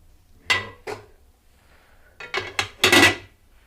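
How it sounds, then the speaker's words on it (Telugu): Metal lid lifted off an idli steamer in a home kitchen, giving several sharp clanks and clinks in two clusters, close and loud against a quiet background. "ఇడ్లీ మూత తీస్తున్నానండి"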